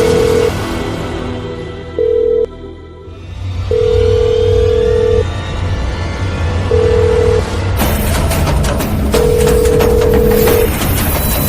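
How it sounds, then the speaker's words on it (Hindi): A telephone rings repeatedly with electronic ring bursts separated by pauses, loud and close, alongside background music and a dramatic boom while a call to the minister goes unanswered. "मंत्री जी को फोन करता हूँ"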